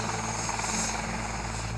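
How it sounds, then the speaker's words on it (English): Medical rescue helicopter repositioning toward a road near a crash scene, its steady loud rotor and engine drone filling the short stretch continuously. "Pilot Geoff is moving the helicopter closer to their patient."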